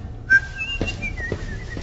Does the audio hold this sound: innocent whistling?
yes